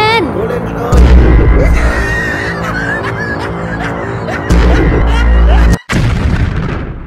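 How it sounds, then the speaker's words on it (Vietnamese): A Godzilla toy fires its plasma beam with blast effects: deep booming bursts and rumbling impacts over layered electronic sound effects, with a voice and other voices talking throughout. "bạn Godzilla của tớ bắn tia plasma rồi kìa"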